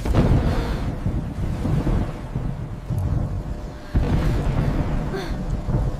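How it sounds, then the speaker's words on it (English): A deep, rolling rumble of thunder swells and surges in long waves, mixed with gusting wind noise, loud and continuous without speech. "Thunder is so loud!"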